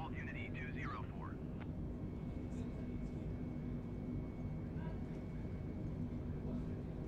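A32NX airliner on its takeoff roll in Microsoft Flight Simulator 2020, giving a steady low engine rumble and runway roar that carries on continuously under a voice reading radio calls.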